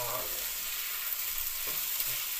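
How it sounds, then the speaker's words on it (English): Saltfish sizzles in a frying pan with seasoning for a Jamaican ackee and saltfish dish, a steady soft crackle of frying with faint stirring bumps, no voices. "So now the saltfish in the frying pan with the seasoning."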